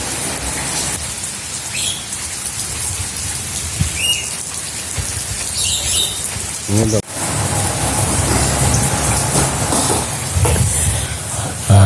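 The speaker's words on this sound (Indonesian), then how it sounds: "harinya hujan, nggak bisa kemana-mana" Heavy rain pours down outside a home kitchen, a dense, steady hiss that fills the whole clip, with a brief stretch of someone talking over it.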